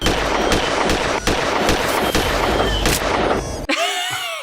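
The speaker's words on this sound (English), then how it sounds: "What's causing explosions that are higher than the tree line?" Loud, continuous crackling blasts and bangs of explosions from the low-budget film Birdemic 2, dense and rumbling for several seconds before cutting abruptly to a brief quieter tail.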